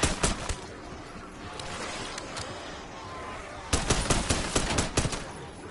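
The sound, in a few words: gunfire in the video game Call of Duty Black Ops 6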